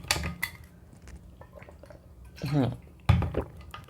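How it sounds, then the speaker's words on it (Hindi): A lecturer pauses to drink water, giving gulping, liquid swallowing sounds and a bottle or glass clink, close to the microphone between stretches of quiet. "एक सेकंड पानी पीता हूँ"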